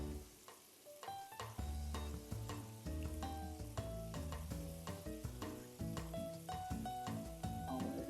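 Peppers, zucchini and other vegetables fry with seasoned potatoes in a breakfast scramble pan, a faint, steady sizzle broken by frequent clinks and scrapes as the food is stirred.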